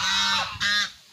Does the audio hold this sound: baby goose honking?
yes